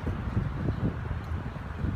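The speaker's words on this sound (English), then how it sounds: "Right now I'm in the open space and you can check out the wind noise." Wind buffeting an iPhone 6 Plus camera microphone in an open outdoor space, a steady low rumble with uneven gusty surges throughout, no talking.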